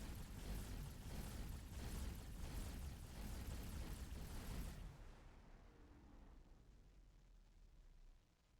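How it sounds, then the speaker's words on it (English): A shipyard explodes in the X4 space game, a sustained roaring, crackling blast that rumbles heavily for several seconds and then cuts to a quieter fading tail. "Explosion imminent."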